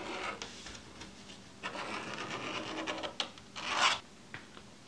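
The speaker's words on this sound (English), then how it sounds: "Now I'm just going to take my handy dandy pen here and trace the underside." A pen traces along the underside of a wood piece with short scratchy rasping strokes, close and fairly quiet, with a louder, longer scrape near the end.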